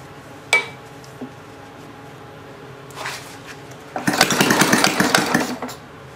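A homemade water-cooled Briggs engine, its carburetor not yet adjusted, starts after a few faint clinks and taps, then runs loudly and roughly for about two seconds before cutting out.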